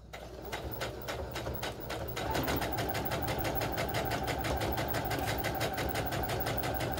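Sewing machine stitching gingham fabric, a fast, even mechanical rattle that runs steadily and speeds up slightly partway through.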